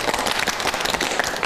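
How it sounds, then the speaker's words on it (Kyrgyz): Studio audience clapping during a Kyrgyz talk show, a brisk, fairly close burst of many hands at steady loudness with no voices over it. "кыргыз элине бир кол чаап коелу"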